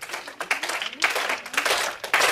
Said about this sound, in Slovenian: dajmo ploskat po ritmu